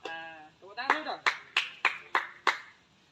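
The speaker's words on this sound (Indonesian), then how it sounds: "Tepuk tangan dulu dong." Following a drawn-out vocal sound, a few hands clap seven times in a slow, even rhythm, each clap sharp and close.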